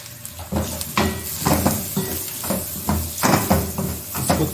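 Masala roasting in a pan for Arabian chicken mandi gives a steady close sizzle and hiss, with repeated clinks and scrapes of a stirring utensil against the pan.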